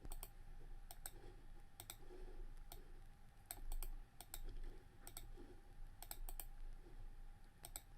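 Login credentials go in on a computer keyboard, heard as faint, irregular clusters of key clicks and taps spread across a quiet room background.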